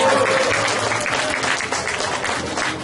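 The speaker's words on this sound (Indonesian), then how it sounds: "Sekali lagi tepuk tangan." An Indonesian audience at a charity talk bursts into dense, steady applause that sounds close and full, easing slightly toward the end.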